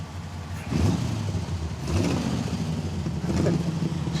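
A V8 engine in a classic car of nearly 60 years ago revs in two or three surges over a steady low rumble, close and fairly loud, with no talk.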